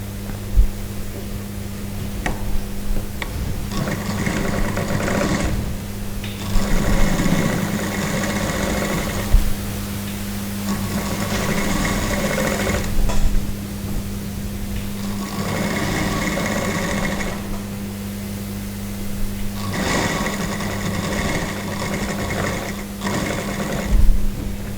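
An overlock sewing machine neatens a seam allowance on a dress, running in several steady whirring bursts of a few seconds each over a constant low electrical hum, close and loud.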